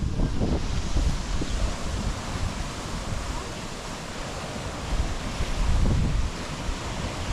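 Strong wind buffets the microphone over a continuous roar of surf at Apo Island, with waves surging louder now and then; no voices.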